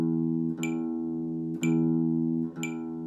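Guitar picking steady notes in an alternate picking exercise, one sustained tone per beat with crisp pick attacks roughly once a second alongside a metronome click, clear and close with no talking.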